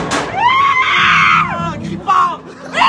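Screams and yells ring out from people inside a Halloween haunted house at an amusement park, several loud shrill bursts rising and falling over a few seconds, with excited voices close by.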